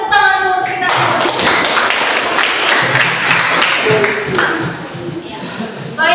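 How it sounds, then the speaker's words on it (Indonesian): Classroom applause for a student group after their presentation, a dense wash of hand clapping filling most of the clip, steady and close, with a few voices mixed in. "kita tepuk tangan dulu untuk kita."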